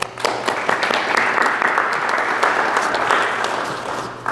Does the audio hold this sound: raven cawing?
no